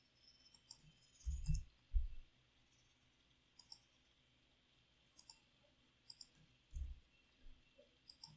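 Computer mouse clicks while someone works in 3D design software: quiet, scattered single and double clicks with soft low thumps, spaced irregularly over a near-silent background.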